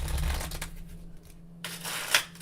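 Playing cards riffled in a truffle shuffle during a magic session, a soft papery burst at the start and another crisp flutter near the end, with quieter handling between.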